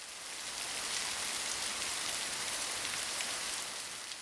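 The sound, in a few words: rain falling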